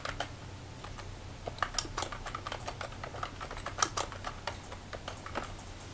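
Steady keystrokes on a computer keyboard as a name is typed in, a run of close, crisp clicks with irregular rhythm over a low background hum, no talking.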